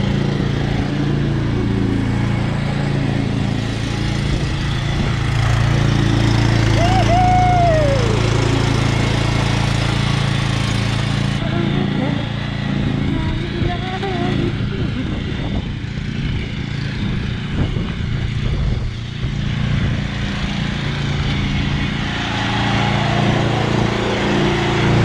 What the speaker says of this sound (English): I'm going to go ahead and put the mower back in the shed here before it starts to storm